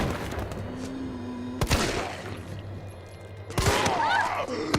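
Gunfire in the video game Resident Evil 3: a couple of sharp, loud broadband shots roughly two seconds apart, standing out over a steady bed of game ambience and music.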